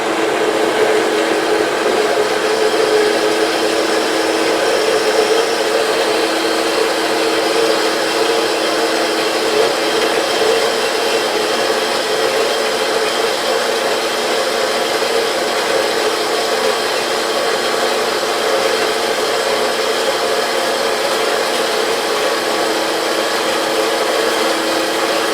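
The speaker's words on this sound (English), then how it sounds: "So all projects start on the bandsaw." A bandsaw cuts through metal stock in a machine shop with a constant, steady whirring drone and a gritty cutting hiss, close and unbroken for the whole stretch.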